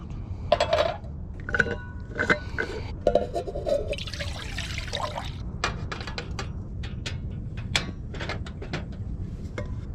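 Water pours and trickles into a pot for boiling at a campsite at Huguenot Park, amid sharp clinks and clatter of cookware, with brief splashy rushes in between.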